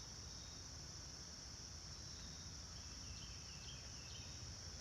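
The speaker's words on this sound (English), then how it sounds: "got lots of birds and crickets" Outdoors, a faint, steady high cricket trill runs under a low background hiss, and a few soft bird chirps drift in from a distance.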